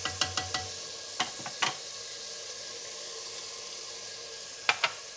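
Mutton frying in a pan with red chili powder, a quiet, faint sizzle under a handful of light clinks and scrapes from a utensil against the pan.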